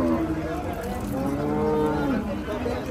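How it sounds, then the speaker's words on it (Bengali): A native bull moos loudly and steadily at close range at a rural cattle market on a rainy day, one long drawn-out low call with no other sound over it. "খুব সুন্দর একটা ষাঁড় গরু আসতেছে,"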